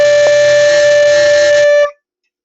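A flute sounds a single sustained D, a steady clear tone held for nearly two seconds before stopping cleanly, played alone.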